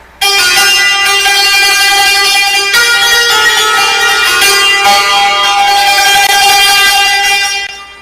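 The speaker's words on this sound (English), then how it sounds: "what I'm going to play for you now is Santoor in Shoor" A bright, shimmering santoor plays a sustained melodic phrase in Shoor mode with ringing tremolo strokes, loud and close, no voices.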